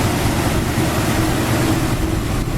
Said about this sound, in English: Engine seems to run real well.